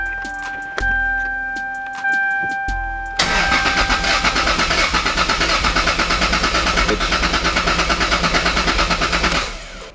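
A Toyota MK4 Supra, just fitted with a corrected distributor rotor, cranks briefly with a chime sounding, then catches and settles into a loud, steady idle close by, with no talking.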